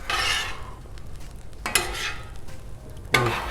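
Beef fried rice with green onion is stirred and scraped on a Blackstone griddle, with a steady sizzle under three sharp bursts of spatula scraping against the metal surface.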